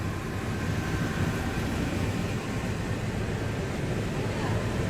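Ride aboard Monorail Orange at Magic Kingdom, a dense continuous rumble and rushing roar of the moving train heard from inside the car, steady and loud throughout.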